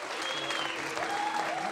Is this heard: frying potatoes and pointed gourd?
no